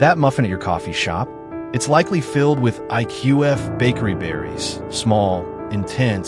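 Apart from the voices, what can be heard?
None of the usual background noises is heard.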